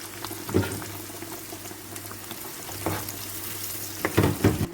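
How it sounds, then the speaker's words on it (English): Blended pepper goes into a hot pot for vegetable soup with chopped onion, setting off a close, steady frying sizzle broken by a few louder stirring bursts. "Then I will be adding the pepper,"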